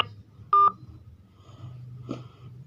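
Touch-tone keypad beeps from a phone navigating a voicemail menu: one loud, clear tone burst near the start, followed later by a fainter tonal blip over a low background hum.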